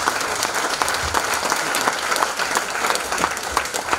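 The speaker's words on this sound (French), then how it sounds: "je me permettrai quand même de faire applaudir l'adjointe au sport de La Rochelle, Catherine Léonidas" Sustained crowd applause at the Stade Rochelais rugby ground, the Apivia Parc in La Rochelle, a thick wash of many hands clapping at once, steady and loud from start to finish.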